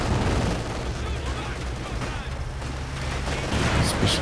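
Small arms gunfire rattles through a World War II strategy game battle with Conscripts and Axis forces, a dense continuous crackle of shots layered with distant booms throughout, fairly loud and steady.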